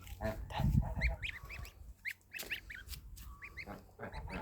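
Several geese honk repeatedly at close range, their harsh calls overlapping in an uneven chorus.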